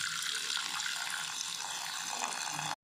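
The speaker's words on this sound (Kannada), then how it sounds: "2 ಗ್ಲಾಸ್ ಆತು ನೀರು ಪಾಡುವೆ." Two glasses of water get poured into a pot while making a nelanelli herbal kashaya, a steady splashing pour heard close that stops abruptly at the end.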